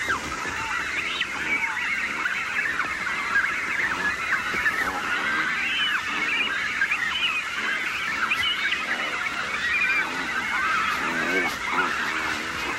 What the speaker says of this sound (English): the imperial cormorants are now ferrying fish to their growing chicks